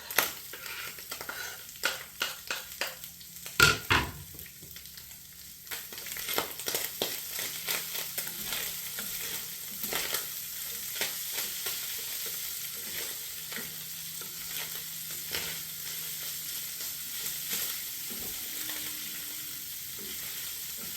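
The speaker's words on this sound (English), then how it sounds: "now I'm gonna go ahead and just add our onions" Onions hit a hot skillet and fry, starting with stirring scrapes and clatter, then settling into a soft, steady sizzle with occasional utensil clicks.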